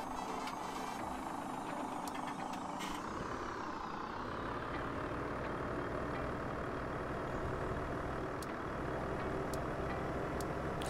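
A truck engine idling in Landwirtschafts-Simulator 17, a steady low rumble running continuously and fairly quietly, with a few faint high clicks or beeps.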